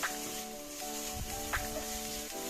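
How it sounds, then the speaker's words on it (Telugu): Vegetables sizzling steadily in a hot pan after soy sauce and chili sauce are added, with a few scraping stirs of a spoon over constant frying hiss. "one spoon soya sauce one spoon chilli sauce వేసుకున్నాక ఒకసారి కలుపుకోవాలి"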